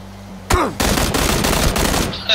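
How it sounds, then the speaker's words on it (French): Automatic gunfire in PUBG: after a low hum, a close, loud burst of rapid shots starts and continues in steady bursts for about a second and a half, then stops. "Oula, ça tire là-bas."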